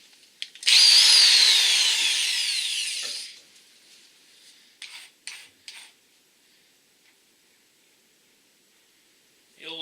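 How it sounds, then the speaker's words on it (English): A cheap, overheating power drill bites into a nylon screw, with one loud whining burst lasting about two and a half seconds followed by several short, quieter spurts, then near silence. "The old cheap ass, smells like it's burning power drill."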